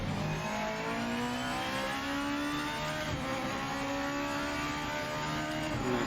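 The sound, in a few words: GT500 race car engine in video game Project Motor Racing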